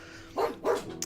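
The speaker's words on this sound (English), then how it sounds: "he just wants to bark" Two quick, sharp barks from a nearby dog, followed by a faint short yip.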